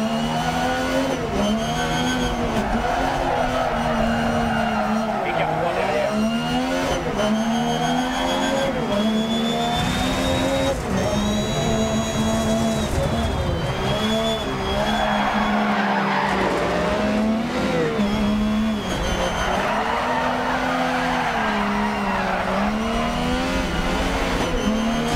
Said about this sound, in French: Je vous ai laissé un peu profiter du son de la voiture